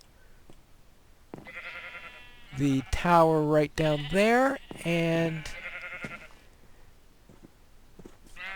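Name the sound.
sheep bleating in Minecraft video game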